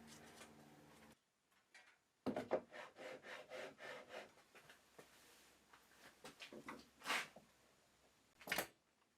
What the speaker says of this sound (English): and then I can screw the guide in place